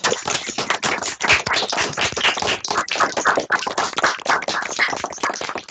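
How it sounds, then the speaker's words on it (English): Participants in an online seminar unmute and clap their hands in appreciation, producing dense, continuous applause of many overlapping claps that runs steadily for several seconds at moderate loudness. "we ordinarily ask everyone to unmute and clap your hands"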